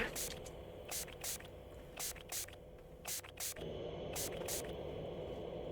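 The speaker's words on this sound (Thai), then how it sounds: "ต่อไป สเปรย์ทำความสะอาด" Cleaning spray used inside the Roblox game Amelia Cafe: a run of short, bright hissing spray bursts in a steady rhythm over constant game background noise, ending in a longer hiss.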